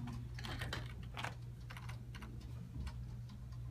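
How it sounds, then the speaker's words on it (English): Someone typing a paper on a computer keyboard, a rapid irregular patter of key clicks over a low steady hum, close and fairly quiet, with no speech. "So now you want to type a paper."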